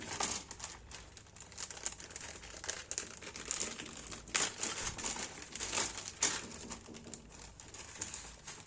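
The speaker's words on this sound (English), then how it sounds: "It's just in a Ziploc bag by the looks of it." Plastic Ziploc bag holding a 1/48 Sword Gannet AEW.3 model kit is handled, giving continuous close crinkling and rustling with a few sharper crackles.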